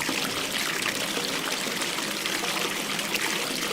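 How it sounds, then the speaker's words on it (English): Water runs from a shower in the horror game Alligator Pie, a steady, fairly loud hiss that continues unbroken with no voices over it. "let me go run the water for you"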